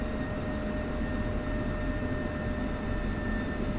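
An F-16 Viper jet in the DCS flight simulator rolls along an airfield runway at taxi speed, its engine giving a steady, loud, unbroken roar and whine throughout with no talk.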